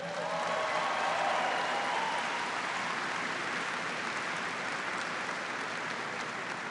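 Applause for civilian staff at a troop event in Afghanistan fills the whole stretch, a dense, steady wash of many hands clapping at a fairly even level, with no talk over it.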